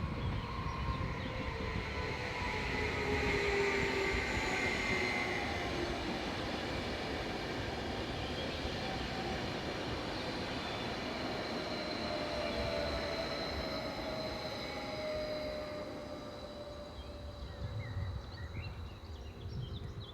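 Swiss passenger train 511-033 slowing into a station stop, a steady loud rolling rumble with drawn-out metallic wheel squeal tones, easing off slightly toward the end.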